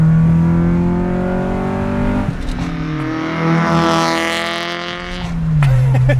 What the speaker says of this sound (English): it sounds really cool when you ping it with the wide open exhaust